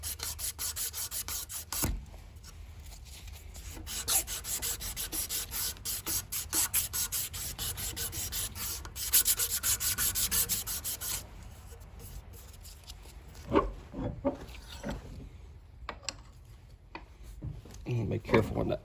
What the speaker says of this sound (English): A little strip of sandpaper here.